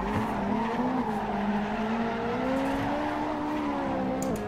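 A Ferrari 458 Italia drifting through Adenauer Forst on the Nordschleife in Assetto Corsa, with a steady engine drone and continuous tire squeal held at close range for the whole stretch.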